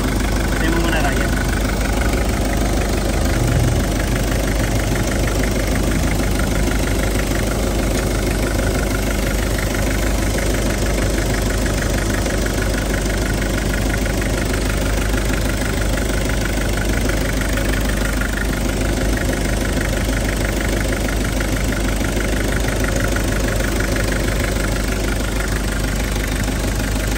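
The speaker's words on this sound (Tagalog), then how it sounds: "Ganda, ganda rin ang makina." A Mitsubishi Delica engine idles steadily and close by with a constant rumbling drone and faint knocking, as people talk over it.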